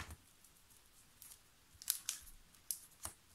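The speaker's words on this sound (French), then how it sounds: "On vient découper la dernière pochette." Scissors snip through a card pocket for Pokémon cards in a few quick, soft cuts, faint and close, with no talking.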